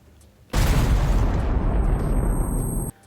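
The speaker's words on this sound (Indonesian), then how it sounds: "di situ ada bom dan akhirnya bom itu meledak" A bomb explodes in a film scene with a sudden loud blast that holds as a dense, roaring rumble for over two seconds and then cuts off abruptly, with a faint high whine above it.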